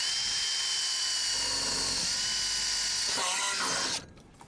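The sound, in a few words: drilling through motorhome roof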